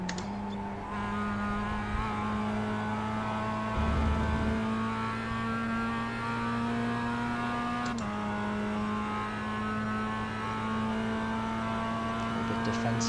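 The Mazda MX-5 race car in iRacing at Summit Point holds a steady engine drone with one brief shift blip early on, a constant mid-pitched hum from inside the cockpit.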